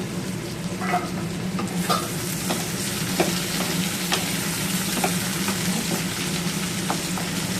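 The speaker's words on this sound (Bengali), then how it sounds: "আমি চাই আলু পেঁয়াজটা আরও ভাজা ভাজা হোক" Potatoes and onions fry in a covered-then-opened pan, a continuous close sizzle with occasional scraping stirs and small clinks, no voices.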